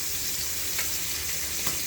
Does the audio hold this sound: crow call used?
no